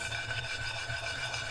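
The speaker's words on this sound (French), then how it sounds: "il faut mettre du sel sur la pâte, ouais, peu importe. Et on frotte." Hands rub salt over dough in a steady, dry rasping scrub that continues close and unbroken, with no voices.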